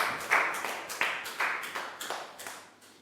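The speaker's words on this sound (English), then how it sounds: "High five and a big round of applause for Prau." Faint, slow clapping from a few people in a third-grade classroom, about six or seven distinct claps in an uneven rhythm, quiet and somewhat distant.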